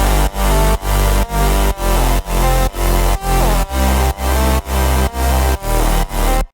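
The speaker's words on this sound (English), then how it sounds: "I added this saw bass underneath together with a sub and some saw chords" A Serum arpeggiator pattern over a saw bass, a sub and saw chords, for a future house track, pulses loudly in about a dozen evenly spaced, chopped synth notes with a heavy low end.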